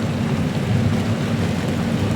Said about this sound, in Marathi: पाऊस खूप जोरात चालू आहे